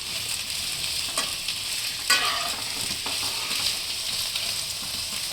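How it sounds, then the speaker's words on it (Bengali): Eggplant frying in hot oil gives a steady, fairly quiet sizzle with a few soft stirring scrapes and one brief louder clatter near the middle. "মা বললো বেগুনটা দেখুন হালকা করে ভেজে নিতে"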